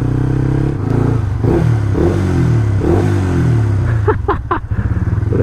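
A Yamaha FZ150i motorcycle fitted with an R15 gearbox idles and revs with a low steady engine note, then blips sharply a few times near the end, loud and close.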